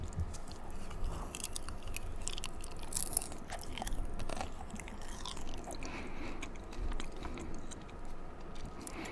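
Popcorn from Khloé Kardashian's brand being chewed close to the mic, a steady run of soft crunching and mouth sounds with occasional louder bites, no talking.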